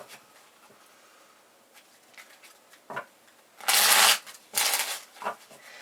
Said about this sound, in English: we're just going to have a little shuffle of the deck